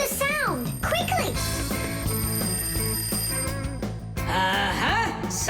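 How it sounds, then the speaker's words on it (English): A cartoon alarm rings in The Fixies, a jangling electronic ringing that repeats in warbling bursts over busy background music, with a character's voice briefly in between. "Simka, I think I can hear my alarm ringing"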